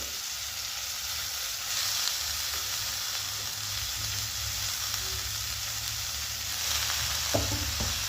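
Finely chopped spring onion greens stir-fry in a pan with a loud, steady sizzle, a few light stirring scrapes and a small clink near the end, close and free of talk.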